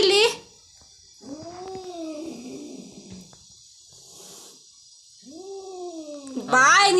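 A house cat lets out two drawn-out, wavering meows a few seconds apart, with a person's voice briefly audible at the start and end.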